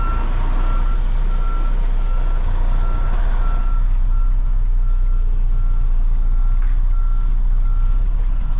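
A semi truck slowly reverses a trailer into a loading dock, its reversing alarm beeping steadily and repeatedly over a constant low diesel engine rumble, close and loud throughout.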